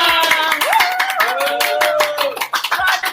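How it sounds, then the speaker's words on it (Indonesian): Clapping rings out in uneven bursts at a business seminar while a voice carries on over it, the claps sharp and fairly close, fading toward the end. "tepuk tangan dong"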